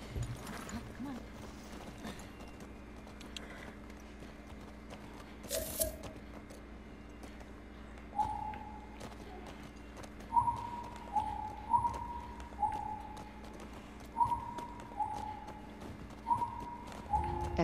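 Video game horse hooves clip-clop in The Last of Us Part II, starting sparse and quiet, then settling into a steady, repeating trot over low game ambience.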